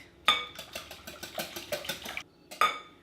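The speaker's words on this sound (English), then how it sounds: "We're going to give that a good little whisk." Eggs whisked into buttermilk in a large bowl, a quick rhythmic clatter of the whisk against the bowl in bursts, close and moderately loud, pausing briefly before one more stroke.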